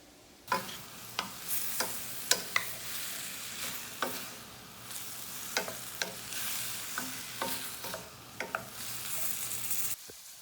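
Sliced peppers and onions sizzle steadily in a pan, with a dozen or so sharp scrapes and clacks of a utensil stirring them at irregular intervals, fairly quiet and with no talk.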